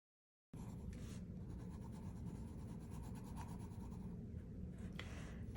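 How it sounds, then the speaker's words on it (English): A 9B graphite pencil pressed hard and burnished across paper gives a close, continuous dry scratching rub that starts abruptly and runs steadily for several seconds. "I'm using my 9B pencil and I'm pressing almost as hard as I can without breaking the pencil"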